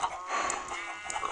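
A Minecraft chicken clucks in short, soft bursts over a brief moment of gameplay, the fowl calls sitting close and clear against a quiet background.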